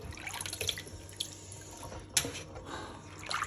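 Water dripping and splashing from a tap while fish is washed in a kitchen, close and fairly faint, with irregular drips and one sharper splash partway through.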